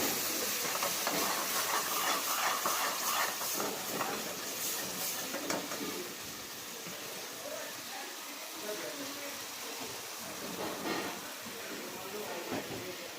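Spicy chicken wing gravy with ketchup and added water simmering in a pan, a steady soft hiss and bubbling with faint stirring, moderately quiet and continuous throughout.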